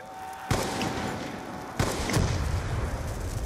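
Sniper rifle shots in the Black Ops 2 Zombies video game boom twice, loud and close with a long rumbling tail, spaced over a second apart amid steady game background noise.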